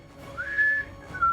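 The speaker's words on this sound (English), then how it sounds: "It does kind of like sound like a whistle. It's a little deeper than a whistle" Two deep whistling tones, like sea wind, serve as an alarm whistle effect: a long sustained note followed by a shorter second one, moderately loud with no talk.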